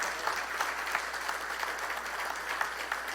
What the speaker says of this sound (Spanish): Puedes darle palmas a Él en esta hora.